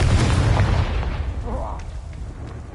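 The Confringo fire spell in a Harry Potter video game bursts with a loud, booming blast at the start, which rumbles and fades over a couple of seconds.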